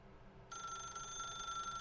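A telephone in the video game The Stanley Parable starts ringing after a short silence, a steady electronic bell tone that continues on its own at moderate loudness.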